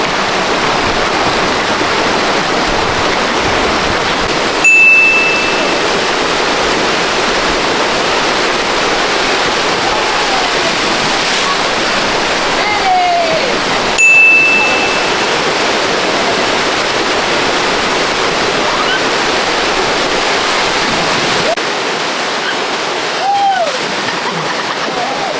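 Water rushes steadily down a natural rock water slide in Puerto Rico, a loud continuous roar and splash with a few short bumps and faint distant voices.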